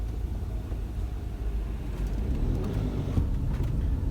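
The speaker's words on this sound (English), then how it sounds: "We're just on our way to Pompeii and we're encountering some heavy traffic." Heavy road traffic on the way to Pompeii in Italy, heard from a motorhome as a continuous low rolling rumble of vehicles with slight surges and no voices.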